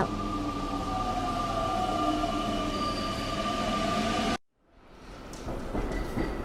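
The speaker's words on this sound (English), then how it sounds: "Metro." A metro train runs steadily with a continuous rumbling roar and a faint high whine, breaking off abruptly partway through before a second, similar rail rumble picks up.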